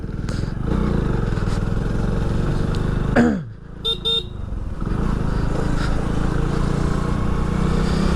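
A Hero Splendor disc-brake motorcycle with a small single-cylinder engine and four-speed gearbox rides through traffic, its steady engine drone and road noise loud throughout, broken briefly by a dip and short horn-like toots midway.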